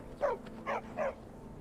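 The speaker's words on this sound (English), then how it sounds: "Armored dogs." Three short yipping barks from armored dogs in Skyrim VR, evenly spaced and moderately near, with no talk over them.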